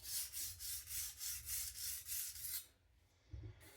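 A knife being sharpened on an Atoma diamond plate gives a rhythmic run of about eight raspy strokes close by, steady and even, then stops, with a couple of soft handling bumps at the end.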